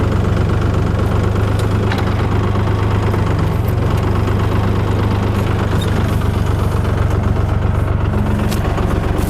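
A tractor engine labours while pulling a rotary tiller during spring tilling, giving off black smoke, in a loud, steady, close drone that stays continuous throughout.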